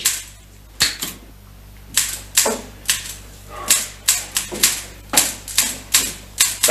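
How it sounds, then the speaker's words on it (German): Typewriter typing in a 1961 German radio crime drama: irregular bursts of sharp mechanical key strikes, loud and close, with pauses between clusters and no talk over them. "Sie sind ja wahnsinnig mit Ihrer Schreibmaschine. Hören Sie auf!"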